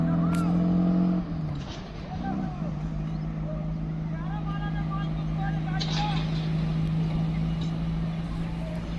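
A 1962 Fiat 1100 pulls away, its engine a steady drone that holds on after a brief louder burst at the start, with voices talking over it.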